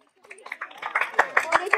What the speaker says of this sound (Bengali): সবাই হৃদয়ের জন্য একটা হাততালি সবাই